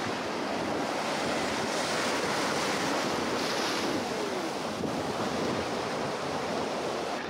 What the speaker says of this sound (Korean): 바위에 따뜻한 온기가 느껴지고 파도 소리가 온몸을 감싼다.